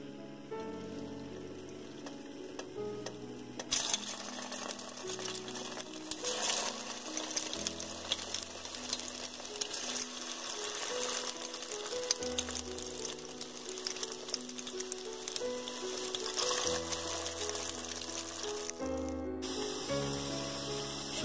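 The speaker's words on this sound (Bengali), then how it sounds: "তেল গরম হয়ে গেছে, এবার এর মধ্যে আমি সয়াবিনগুলো ভাজতে থাকবো।" Soya chunks deep-frying in hot oil, a continuous bubbling sizzle that surges loudly after a few seconds and keeps crackling, with faint background tones.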